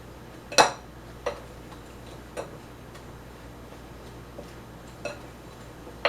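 Metal pastry cutter tapping and clinking against a bowl while cutting into crumbly coconut oatmeal cookie dough: a handful of sharp, isolated ticks spaced irregularly, close and fairly quiet, with no talking.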